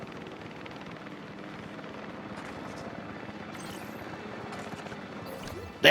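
Helicopter in the video game Jurassic World Evolution 3, a steady low rotor chop droning continuously at moderate loudness with faint gunfire-like crackles in the game mix.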